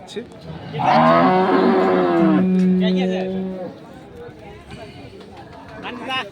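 A dairy cow lets out a long, loud moo, with people talking in the background of a busy, crowded outdoor cattle market in Ambari, Dinajpur.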